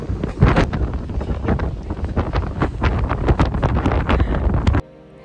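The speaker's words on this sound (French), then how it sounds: "en étant à 97 mètres de hauteur, le vent se fait bien sentir" Strong storm wind buffets the microphone on a high viewpoint 97 metres up in Bologna, loud roaring gusts throughout that cut off abruptly near the end.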